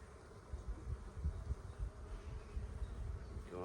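Honeybees buzz steadily and fairly loudly around an open beehive during a beginner's hive inspection, a dense, continuous droning swarm noise with no speech.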